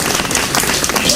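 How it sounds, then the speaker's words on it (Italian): A crowd claps and applauds at an amateur cabaret theatre performance, a dense burst of hand claps filling the short stretch, loud and continuous. "Un bel applauso per questo incoraggiamento"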